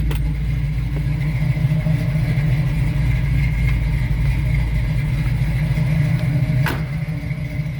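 A 1972 Chevrolet Nova with a rebuilt 396 V8 idles at around 500 rpm, a loud, steady low rumble close by with a slight lope and no talking.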